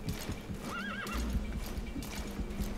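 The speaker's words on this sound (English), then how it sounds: "What's the horse doing?" In Metal Gear Solid V: The Phantom Pain, a horse gives a short wavering whinny while its hooves clop steadily on the ground, the neigh rising briefly over a quiet outdoor background.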